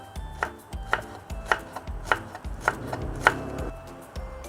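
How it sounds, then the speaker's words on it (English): A knife chopping scallion finely on a board, about eight distinct close knocks in a steady rhythm, each a crisp strike with a short thud, heard alone. "And proceed with the scallion, chop fine also."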